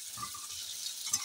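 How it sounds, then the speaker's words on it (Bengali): Onions frying with cumin seeds in hot oil give a soft, steady sizzle close by, with a couple of brief stirring bumps in the pan. "প্রথমে একটু পেঁয়াজটা জিরের সাথে ভাজা ভাজা করে নেব"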